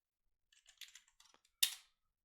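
A computer keyboard is used to type a short login word at a command prompt: a quick, faint run of soft keystrokes, then one louder, sharper keypress after a brief pause, with no voice present.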